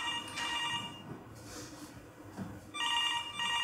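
An office telephone rings in two electronic bursts, one early and a longer one near the end, with a quieter roomy stretch between and no speech.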